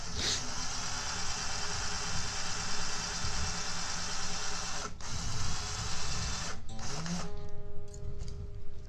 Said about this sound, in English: that's why I like using the drill